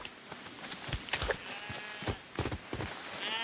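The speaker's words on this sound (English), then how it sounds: "Now the sheep's going to eat the corn" A sheep in Lego Fortnite bleats several short, close cries in quick succession over a quiet game background.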